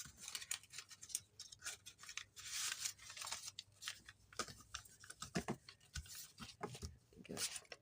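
Scissors snip and trim a sheet of paper while making a one-sheet booklet with pockets, giving close, irregular cutting clicks and rustles with short pauses between snips.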